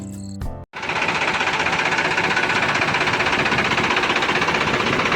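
A 2018 Sonalika DI 42 tractor engine in original company condition runs steadily at a loud, even idle with a rapid knocking pulse, starting abruptly after a brief burst of other sound.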